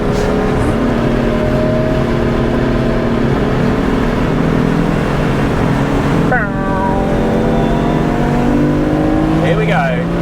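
BMW M3 with an Akrapovic exhaust accelerating on track, a loud continuous engine roar with rising harmonic pitch sweeps and a brief shift, heard from inside with people talking over it.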